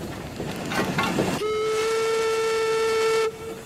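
A small steam engine aboard a launch boat lets off puffs of steam, then a steady steam whistle sounds clear and loud for about two seconds before stopping abruptly.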